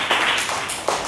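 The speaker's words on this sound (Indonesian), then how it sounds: "Tepuk tangan buat Naila ya" A classroom of students claps for a classmate, a short burst of steady, close applause lasting about a second with no talk over it.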